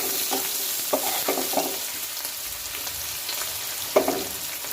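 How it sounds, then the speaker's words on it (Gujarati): Finely chopped onions fry in oil in a pan for dal tadka. A dense, close sizzle hisses throughout, and a few louder scraping stirs cut through it. No voices are heard. "હવે આને આપણે સારી રીતના ડુંગળીને શેકી લઈએ"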